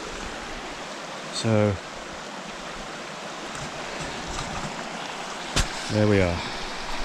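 Steady rushing of a river running right beside a trail in British Columbia, a constant broad wash of water with someone speaking briefly over it twice.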